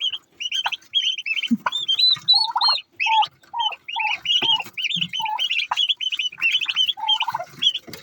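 Loud, raucous farm poultry calling close by in a village, likely guinea fowl, repeated harsh shrieks and chattering bursts overlapping in quick uneven rhythm, with no talking.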